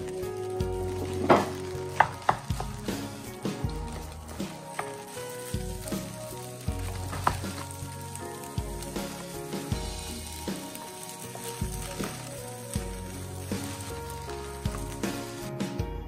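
Beaten eggs frying in a hot wok for fried rice made with vegetable stems, a steady close sizzle with periodic scraping and stirring strokes throughout, no voices.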